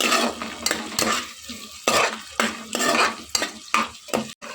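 Onions, green chillies and grated curry leaves fry in a pan for millet-maker style rice, a spoon scraping and stirring in repeated loud strokes over a steady, close sizzle.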